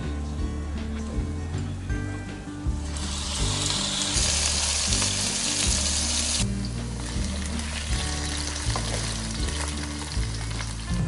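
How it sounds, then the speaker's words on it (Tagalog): Beef with cartilage fries in oil in a pan, giving a steady, close sizzle that swells into a louder, brighter hiss midway before settling back, with low background rumble throughout. "kapag dry na siya, wala na yung water, pwede na natin lagyan ng mantika"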